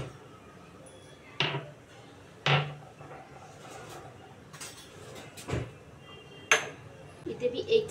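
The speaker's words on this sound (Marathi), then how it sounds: "पहिला मी याला कुटणार चांगले" Green chillies pounded to make chilli paste in a home kitchen. A handful of sharp, separate thuds and clinks land at uneven intervals over quiet background noise.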